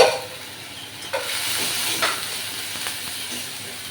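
Water hits spice masala frying in a pan, setting off a sharp hiss that settles into a soft, steady sizzle with a few brief spurts.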